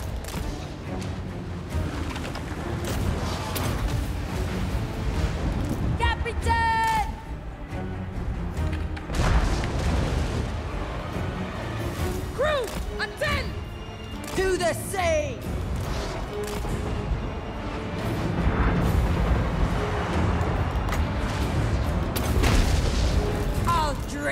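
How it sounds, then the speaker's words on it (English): Mortar barrage in a battle video game, heavy booms and rumbling impacts rolling continuously through the scene, with scattered sharper blasts and whooshing effects layered over a dense, loud low-end roar. "nice uh, angle for the incoming mortar barrage."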